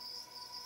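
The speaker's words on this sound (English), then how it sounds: "After that, I ordered some crickets. It might be loud, it might not be" Feeder crickets bought for a pet tegu chirp in a steady, continuous high trill that stays even and fairly close throughout, with no talking.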